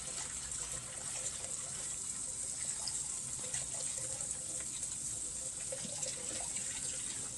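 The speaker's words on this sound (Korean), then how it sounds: "이거를 씻어서 물로 흘려보내면서 속에 있는 식재를 털어보도록 하겠습니다" Running tap water pours steadily over the tightly packed roots of a Maxillaria tenuifolia orchid, rinsing out the potting medium; a continuous, moderately quiet splashing gush with no voices.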